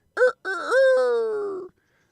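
A rooster crows once, loud and close: a short opening note, a brief pause, then a long drawn-out call that fades, with silence afterwards.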